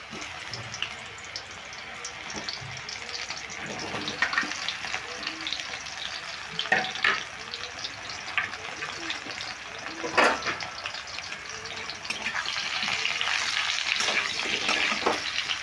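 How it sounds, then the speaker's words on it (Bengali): Ridge gourd slices coated in gram flour and cornflour fry in hot mustard oil, giving a steady close sizzle with occasional clinks and stirring sounds that grows slightly louder toward the end. "এখন এই বেসন আর কর্নফ্লাওয়ার মাখানো ঝিঙেগুলো দিয়ে ভেজে নেব আমি"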